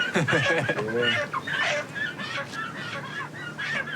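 Chickens cluck and squawk in a busy cluster, their calls overlapping with voices talking nearby in a noisy market setting along the Karakoram Highway.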